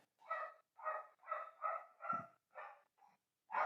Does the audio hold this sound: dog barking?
yes